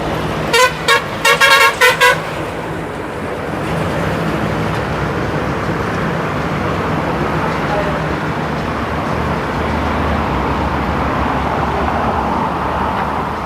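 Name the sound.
lorry passing on the Pune–Mumbai Expressway, with traffic and horns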